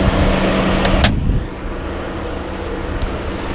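A loud rushing burst cuts off abruptly, leaving the V8 engine of a 2003 BMW 745i (E65) idling nearby in a steady, low, even rumble.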